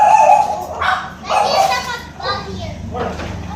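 Dogs bark and yip in short bursts amid children playing and talking nearby, the barks mixed closely with the kids' voices.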